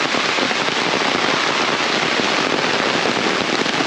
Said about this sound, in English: it's absolutely pelting down, lashing heavy rain